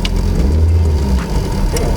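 An Isuzu Stylus engine hums steadily at a low, even pitch as the car creeps forward in first gear, loud and close with no talk.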